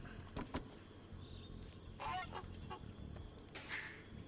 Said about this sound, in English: Alright, geese, get out of the way.